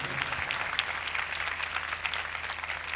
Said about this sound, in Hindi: उस हस्ती के लिए जोरदार तालियां बजाएं।